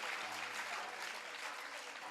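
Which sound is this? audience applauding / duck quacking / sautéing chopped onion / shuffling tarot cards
audience applauding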